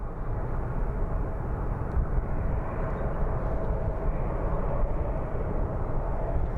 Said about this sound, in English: let's go take a look at some of these American Airlines flights that are coming up